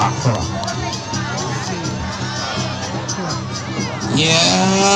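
Dense crowd roar and cheering at a peresean stick-fighting bout in Pelangan village, Lombok, loud and continuous throughout, swelling near the end with excited voices and whistles on top.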